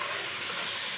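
Food frying in a pan with added water, giving a steady broadband sizzle and steamy hiss that holds evenly throughout at moderate level, with no talking.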